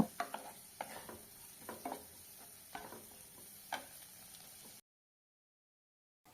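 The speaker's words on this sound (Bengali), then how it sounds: "নুনটা সব কিছুর সাথে ভালোভাবে মিশিয়ে নেব" Salt being stirred into sautéed vegetables in a pan: a soft sizzle under several sharp spoon-on-pan clicks and scrapes in an uneven rhythm, then sudden silence near the end.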